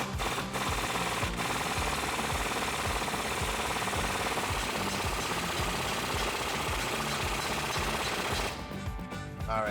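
Heavy-duty ball joint being rammed into the axle of a Jeep Wrangler JK with a rapid, continuous hammering rattle, loud and close, running nearly the whole time before stopping near the end, with no speech.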